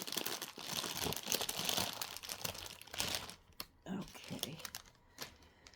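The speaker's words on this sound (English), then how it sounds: "Let's just try and get hold of all of these little cards." Small cross-stitch thread cards are gathered up by hand, making close, busy rustling and crinkling with light clicks that thin out into scattered taps.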